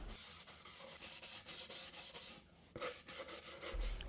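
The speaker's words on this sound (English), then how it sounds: "so I just hand sand those." Sandpaper rubs by hand along the edges and corners of wooden hanging shelves in steady, rhythmic rasping strokes, close and continuous with a brief pause midway and no voices.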